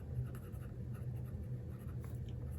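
A fountain pen inked with Sailor Yurameku writes on paper, a soft, steady scratching that runs for a few seconds over a low background hum, close and quiet, with no voices.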